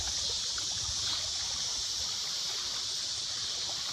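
An Ozark stream flows in a steady, broad rush of water that holds even and constant throughout, with no voices over it.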